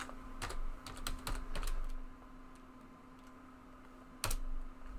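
Keyboard shortcuts tapped on a computer keyboard during 3D modelling work, a quick cluster of crisp close key clicks followed by a quiet hum and a last isolated keystroke.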